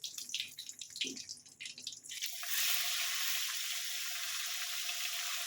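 Pomfret fish fries lightly in oil in a pan, with uneven crackling at first, then a steady, close hiss of sizzling.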